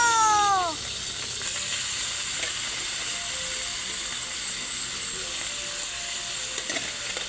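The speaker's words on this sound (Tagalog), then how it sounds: "Nagbuto-buto. Hadlok sa mantika." Hot oil popping and sizzling in a pan while adobo fries, a steady close hiss with scattered sharp pops throughout, opened by a brief high-pitched squeal.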